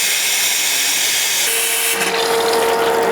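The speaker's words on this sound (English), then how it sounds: "We're going to open it up so we can hear the air coming out of the filter." Air hissing out of an opened pool filter as the pump fills with water, a steady broadband rush that strengthens and changes character partway through, with a rising whine joining it, close and loud.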